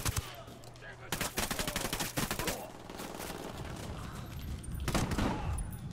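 Dense bursts of automatic gunfire crackle back and forth during a firefight in the tactical shooter Ghost Recon: Wildlands, with sustained volleys and sharp single reports.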